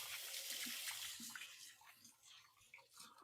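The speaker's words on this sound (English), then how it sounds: "I'm going to give my hands a quick rinse." Tap water running in a home kitchen while hands are rinsed, a faint, steady splashing flow with small irregular splatters throughout.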